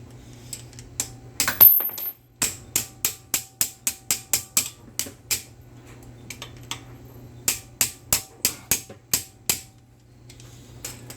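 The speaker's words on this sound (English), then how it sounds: "I'm going to get a hammer here. This cotter pin's really stuck." Sharp metallic taps ring out in quick bursts, a steady series of hammer strikes on a stuck cotter pin at a Hyundai Accent front wheel hub, with short pauses between groups, close by over a low hum.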